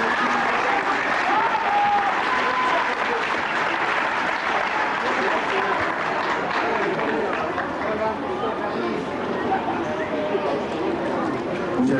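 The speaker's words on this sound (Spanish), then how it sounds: "vamos a brindar un fuerte aplauso" Audience applause for cumbia musicians in Texcoco, a broad, continuous crowd clapping mixed with chatter and cheering voices, sustained at moderate loudness throughout.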